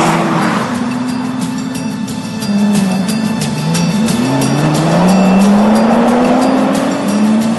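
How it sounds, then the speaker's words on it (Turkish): Nissan GT-R cars run hard on a test track, their engines droning loudly and climbing through rising revs with brief tire squeal as they accelerate and corner, with no speech over the engine noise. "On test sürücüsünden oluşan bir ekip her gün gece gündüz demeden 25 GTR'ı bu yollarda sınava tabi tutuyor."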